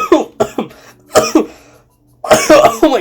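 A person coughs and clears their throat in loud, close bursts, several sharp coughs, a brief pause, then another cluster of coughs.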